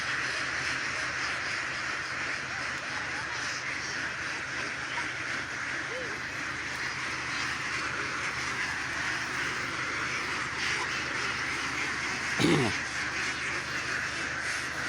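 A flock of young female ducks on a farm keeps up dense, continuous quacking close by, with a voice talking over the steady chorus.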